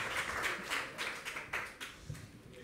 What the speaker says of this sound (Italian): Un applauso anche per i nostri amici relatori